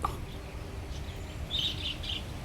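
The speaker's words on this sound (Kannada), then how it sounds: "ಇಲ್ಲಿ ನೋಡ್ರಿ ಪೀಚ್ ಇವೆಲ್ಲ ಕೂಡ ಆಫ್ರಿಕನ್ ಲವ್ ಬರ್ಡ್ಸ್" African lovebirds in a zoo aviary in Davanagere give a few short, high chirps, faint and moderately distant, over quiet background ambience.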